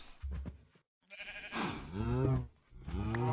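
Minecraft sheep in the Agrarian Skies modpack bleat several times in quick succession, close and clear, with a brief silent gap near the start.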